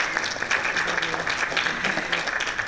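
An audience at an academic conference claps steadily, a dense patter of many hands sounding fairly close and continuous, with a faint murmur of voices underneath.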